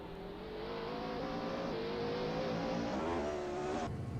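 Race car engines in a practice session at Jerez GP in the racing game Assetto Corsa, a steady droning whine that rises slightly in pitch, loud and continuous with no voices.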